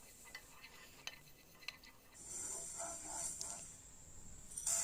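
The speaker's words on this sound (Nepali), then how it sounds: "अब मेथी 1 चम्चा, मेथीलाई एकैछिन भुट्नुपर्छ।" A spoonful of fenugreek seeds is dry-roasted in a pan for lemon pickle spice. Faint light clicks of stirring are followed by a soft, rising sizzle and hiss, close and quiet, with no talk.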